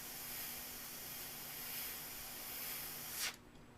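Clear coat hisses from a spray can in one steady, continuous burst for about three seconds, close and fairly loud, then cuts off abruptly.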